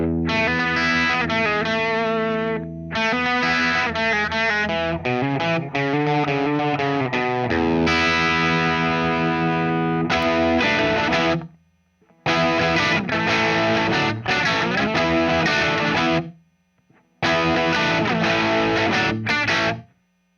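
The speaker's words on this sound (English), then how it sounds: "So the lick would sound like this with the Pantheon on." An electric guitar plays a lick through a Wampler Pantheon overdrive pedal, giving a driven, sustained tone of bent notes and chords in phrases. Brief silent gaps separate the phrases near the end.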